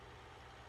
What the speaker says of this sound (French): Oh, ce joli bruit de tracteur.